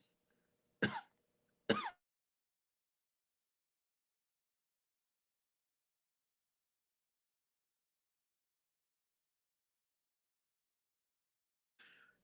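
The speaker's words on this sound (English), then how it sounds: "I had to cough, y'all." Two sharp coughs in quick succession close to the mic, then a long silence and a faint third burst at the end.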